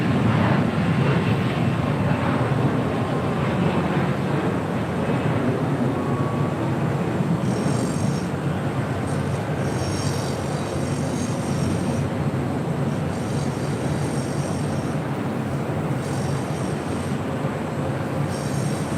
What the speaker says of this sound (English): Taking off there on 25 rights. That was Delta Connection, Flight 3766, heading to Tucson, Arizona, that E175LR.